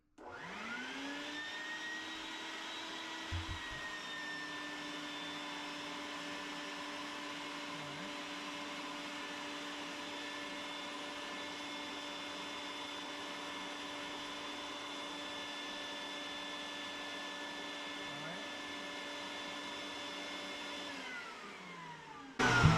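A 1963 Corvair engine idling on a bench, a steady droning hum with a whining tone held at a constant pitch for about twenty seconds before it cuts off.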